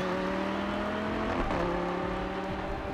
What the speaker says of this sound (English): listen to the sounds of that car, guys